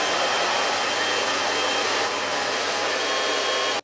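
A hair dryer blow-drying hair after a U-shaped haircut: a loud, steady, close-up whooshing roar that runs almost the whole time, then cuts off abruptly, with no talking.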